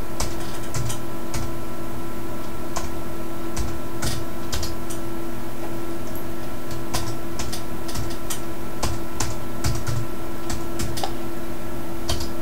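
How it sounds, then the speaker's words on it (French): Computer keyboard typing polytonic Greek, a steady run of light key clicks at an uneven pace, near and fairly quiet over a constant low electrical hum, with no talk. "Maintenant, je vais vous écrire la même chose en polytonique."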